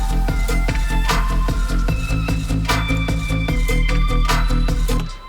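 A bright, high-pitched percussion loop, pitched up 14 semitones in Cubase, repeats in a tight, shuffling rhythm with clicky hits over a steady low pulse, then stops abruptly at the end.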